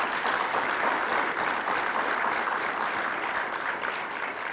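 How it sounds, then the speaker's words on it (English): Steady, dense applause from an audience at an HIV and AIDS epidemic summit for Reverend Sanders, sustained and even throughout with no pauses. "So can we please give Reverend Sanders a round of applause?"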